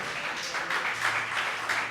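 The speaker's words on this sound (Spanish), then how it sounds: "¿Cuántos aplauden el nombre del Señor?" A church congregation claps together in a steady, dense wash of applause that holds for the whole moment without a break.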